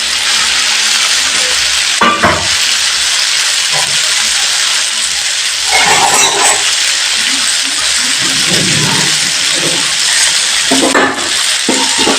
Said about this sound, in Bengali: এবার পনির দিয়ে সব তরকারিগুলোকে আমি একটু ভালো করে নেড়ে নিচ্ছি